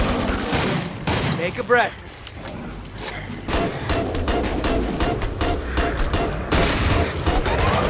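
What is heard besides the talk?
gunfire in the video game Killing Floor 2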